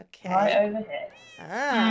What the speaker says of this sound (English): And excuse the cats